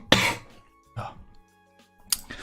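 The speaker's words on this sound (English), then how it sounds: "Sorry about my cough. It's very annoying." Three sharp coughs, spaced about a second apart, close and loud with quiet gaps between them.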